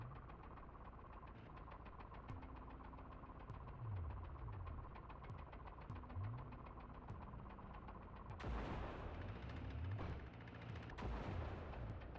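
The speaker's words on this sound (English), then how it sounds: "Yep, now you're shooting at us." Gunfire rings out in the helicopter combat game Psycho Patrol R as enemies shoot from a tower, with bursts of shots over a constant engine hum and a louder, denser barrage toward the end.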